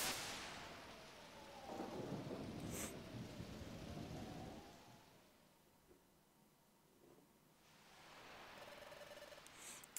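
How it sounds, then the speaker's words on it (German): Thunderstorm with rain in the Pokémon Mystery Dungeon video game: a quiet rolling rumble of thunder over a steady hiss of rainfall, swelling and easing, with brief chime-like tones near the end. "Klingt, als würde sich dein Sturm zusammenbrauen."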